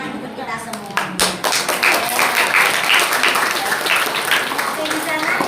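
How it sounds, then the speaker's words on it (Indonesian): Applause from a crowd of schoolchildren and teachers at a motivational session before the grade 6 school exams, steady dense clapping lasting throughout with voices mixed in. "Tepuk tangan untuk kita semua."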